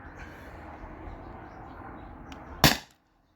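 A Beeman BP50 air pistol fires a single sharp, close crack near the end, after a stretch of quiet background hum.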